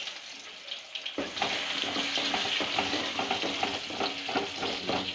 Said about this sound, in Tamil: கொஞ்சம் பொன்னிறமாக வதங்குற வரைக்கும் வெங்காயம் கொஞ்சம் வதங்கட்டும்.